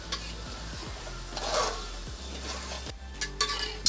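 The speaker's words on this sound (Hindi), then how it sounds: "इसको अच्छे से मिक्स करेंगे ताकि मसाला और प्याज एक साथ मिल जाए" Vegetable pulao with masala and onion being stirred in a cooking pot, a steady scraping and soft rustle at close range with a few sharper clinks toward the end and no voices.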